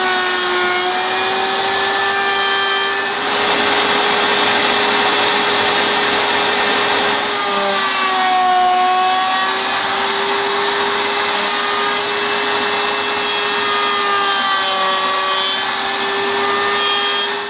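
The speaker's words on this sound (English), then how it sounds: "we're back over here at the router table. And we'll go ahead and route these edges here." A router on a router table cuts the edges of a wooden mailbox post, giving a steady, loud, continuous high whine with a sustained motor hum throughout.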